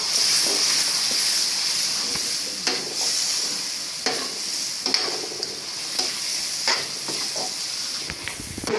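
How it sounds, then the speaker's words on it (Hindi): Kofta curry masala being stir-fried over high heat after yogurt was added, a steady loud sizzle with scraping stirs at irregular intervals, no talk. "तेज आंच पे जरा भूनेंगे इसको"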